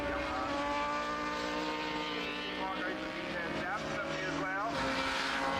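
A classic Norton 500 racing motorcycle runs on a track, its engine a steady, distant drone with a few rising passes, heard under commentary.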